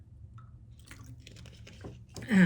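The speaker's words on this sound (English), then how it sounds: "just gonna grab a sip of water." Someone taking a sip of water, with faint wet mouth and swallowing sounds close to the microphone, ending in a louder bump.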